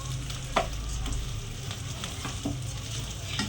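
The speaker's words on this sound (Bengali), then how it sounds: "তো এবার চালটাকে ভালো করে ভেজে নেব।" Rice for basanti pulao fries in a pan, giving a steady soft sizzle with scraping stirs and occasional light knocks of the spoon.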